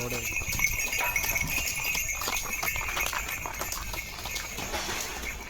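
Horse hooves clip-clop at a steady trot, fairly close, outside a misal restaurant in Nashik, over busy outdoor background noise with voices and a constant high-pitched hum.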